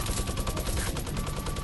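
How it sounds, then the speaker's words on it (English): Rapid gunfire in a video game squad match, shots sprayed at bushes in a dense, continuous crackling burst that fills the moment. "Shoot those bushes, make sure that I walk next to you, shoot those bushes."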